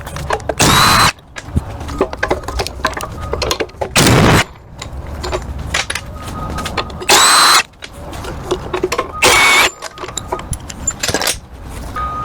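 A power tool buzzes in four loud, short bursts while unbolting the upper suspension links on a Tesla Model S, with metallic clinks and handling noises between the runs.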